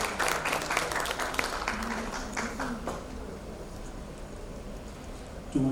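Audience applause at an education summit, a dense, even wash of clapping from a crowd that holds steady for several seconds, loudest at the start and gradually softening, with a voice cutting in at the very end.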